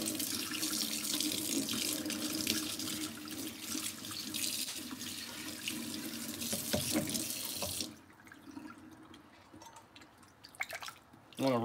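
Tap water runs into a kitchen sink as a trumpet is rinsed, a steady broadband splashing that stops partway through, leaving drips and faint handling clatter.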